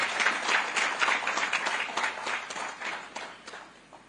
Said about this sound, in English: So I think we need to clap for that.